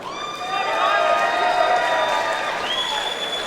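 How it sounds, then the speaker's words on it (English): Fans cheer and applaud at a professional boxing fight as the result comes in, with dense, steady clapping and shouts from a large indoor crowd and whistles cutting through. "Big cheer from his fans."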